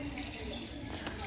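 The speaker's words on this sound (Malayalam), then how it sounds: "വെള്ളം പൊക്കൊണ്ടിരിക്കുകയാണ്." Water runs from a tap into a sink in a home, a steady close splashing rush with no talking.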